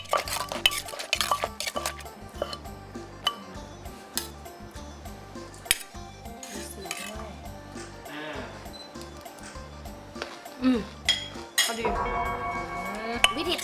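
A wooden pestle turned and scraped inside a mortar after pounding som tam, giving clinking, stirring and knocking sounds against the bowl, close and uneven, with someone talking over them.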